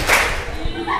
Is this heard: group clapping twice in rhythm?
yes